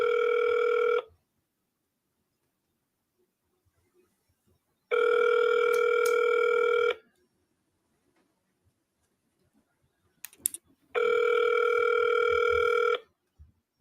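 A phone line gives three long ringback tones, each about two seconds, separated by long silences, with a few faint clicks between the second and third tones.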